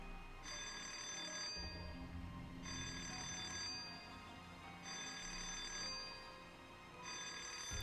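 A telephone rings in long repeated bursts, about four trills spaced roughly two seconds apart, steady and moderately loud over a low background hum with no talking.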